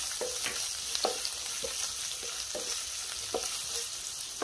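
Chopped medium onion with grated ginger frying in a pan, a steady close sizzle broken by repeated scrapes of a stirring spoon, with no talking.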